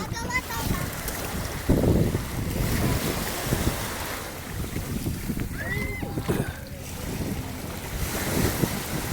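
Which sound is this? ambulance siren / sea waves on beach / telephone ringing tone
sea waves on beach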